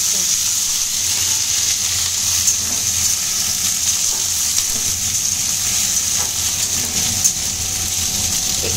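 Tomatoes frying in a little oil with panch phoron for a chutney: a constant, bright hiss of sizzling with faint clicks of stirring, close and even throughout the clip, with no one speaking.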